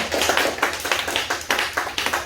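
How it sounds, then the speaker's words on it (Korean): A church congregation claps together in a fast, even rhythm, a dense wash of many hands at a steady beat, continuing loudly throughout with no voices above it. "박수 한번 쳐요"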